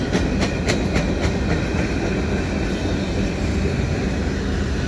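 A CN westbound fast freight train passes at Dorval, a loud continuous rumble and rolling roar with quick rhythmic clickety-clack of wheels over rail joints at the start, close and without voices.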